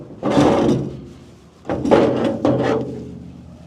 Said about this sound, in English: Open the door a little bit.